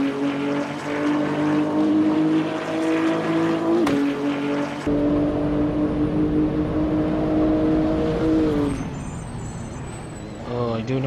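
A BMW M4 GT3 race car at Sepang in a racing video game, heard from on board as a loud, steady engine tone that shifts, breaks off with a gear change, then fades under a high whine.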